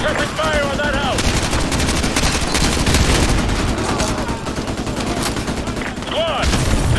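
Sustained gunfire in Call of Duty: Modern Warfare 2: loud, dense rattling machine-gun bursts and shots without pause, with shouted voices breaking through in places.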